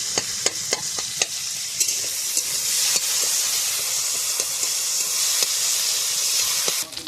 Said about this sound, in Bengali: চিংড়ি মাছটা কড়া করে ভেজে নিয়েছি